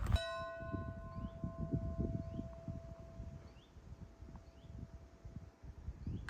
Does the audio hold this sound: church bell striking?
yes